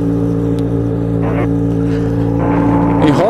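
A Yamaha XJ6 motorcycle engine running steadily close by, its drone rising in pitch near the end as it starts to accelerate, with a voice speaking briefly under it.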